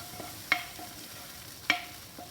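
Spoon stirs garlic tarka through lentil dal in a pot, soft scraping with two sharper knocks against the pot and a faint sizzle underneath.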